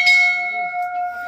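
A temple bell at Jakhni Mata Temple in Palampur, Kangra, struck once by visitors as they leave, ringing with a clear sustained metallic tone that decays slowly, close and loud, with no talk over it.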